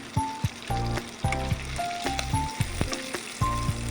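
Breadcrumb-coated chicken pakoras deep-fry in hot oil, producing a moderate bubbling sizzle that runs beneath prominent rhythmic background music.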